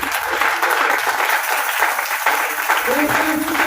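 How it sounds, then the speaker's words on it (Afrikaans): Church congregation clapping hands during a Sunday morning worship service, a dense, steady patter of many hands filling the room, with a voice speaking over it near the end. "Kan jy gou net hande klap?"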